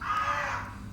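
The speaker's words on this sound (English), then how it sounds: "Sounds like a raven." A single raven caw from a film scene, a harsh drawn-out croak heard clearly at moderate distance over a low background hum.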